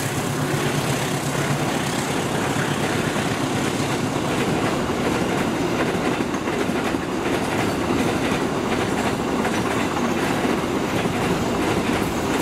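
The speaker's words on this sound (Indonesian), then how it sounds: "Yang narik KA 2530 Abang Priuk Cargo sore ini adalah lokomotif" Freight train KA 2530 Abang Priuk Cargo, hauled by locomotive CC018347 at Bekasi Timur, rolls past with a loud, steady rumble and continuous clickety-clack of wagons over rail joints, close by and sustained throughout.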